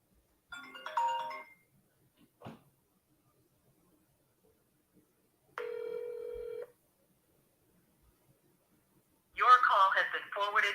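An unanswered outgoing phone call rings twice through a handset, each ring a steady tone about a second long, separated by long silences, with a brief voice before and after.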